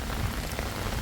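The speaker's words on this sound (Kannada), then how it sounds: "ಈಗ ನೋಡಿದ್ರೆ ಫುಲ್ ಮಳೆ" Heavy rain falls outside in Thailand, a dense, steady, close patter with no voices.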